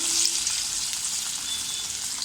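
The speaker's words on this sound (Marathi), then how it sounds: "आपल्याला त्या भज्या तळून घ्यायच्या आहेत" Chana dal and moong dal bhaji frying in hot oil, a steady close sizzle with a dense bubbling hiss that carries on without a break and has no talk over it.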